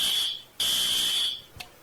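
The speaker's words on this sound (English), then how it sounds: "That's the breaking news alarm." A loud electronic breaking news alarm gives two sustained high-pitched tones, the second longer, each ending abruptly, followed by a short faint click.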